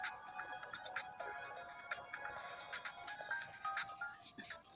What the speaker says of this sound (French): Excusez-moi pour le son de la notification.